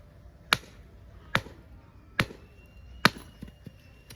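An axe splits wood outdoors in four sharp, evenly spaced chops, each a loud close crack with a short woody ring, with no voices.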